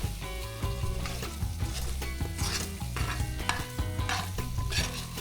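Meat sizzles and is stirred in a hot pan while being cooked as a topping for homemade sardine pizza, a steady close frying hiss with scraping stirs and clinks of utensil on pan, no talking.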